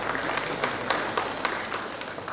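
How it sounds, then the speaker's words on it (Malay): Audience applause at a retirement ceremony, a brief steady burst of clapping with a few sharper claps standing out over a dense background. "Jadi satu tepukan."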